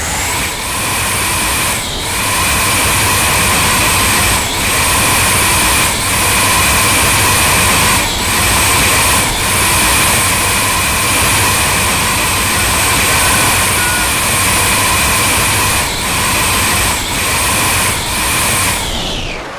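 A loud, steady Mitsubishi Canter truck engine in Bus Simulator Indonesia drones continuously at a constant pitch with a faint high whine, holding unchanged throughout.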